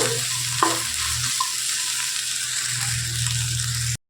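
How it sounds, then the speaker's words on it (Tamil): Okra is stirred and sautéed with rock salt in a hot pan, giving a steady, close sizzle with scraping stir strokes throughout and no talking. "அதையும் சேர்த்துட்டு நல்லா வதக்கிடுங்க ஒரு அஞ்சு நிமிஷமாவது நல்லா நமக்கு வெண்டைக்காய் வதங்கணும்"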